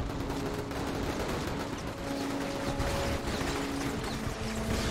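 Sustained automatic gunfire in the inFAMOUS video game, a dense continuous volley of bullets with mechanical clatter, loud and steady throughout with no voices.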